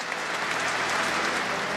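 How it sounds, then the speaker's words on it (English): Applause from a crowd as a coffin is carried into a cathedral for a funeral, a steady, dense patter of clapping heard at a distance and fairly faint. "As the coffin made its way into the cathedral, there was applause."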